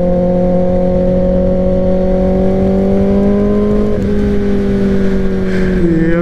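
A motorcycle engine runs at high speed for a 189 mph top-speed run, holding a loud steady drone that dips slightly in pitch partway through and stays near and continuous without talk.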